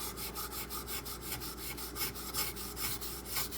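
A knife with a plunge grind is drawn across a sharpening stone in quick, steady strokes, a close, even rasping scrape repeating about four times a second with no voices.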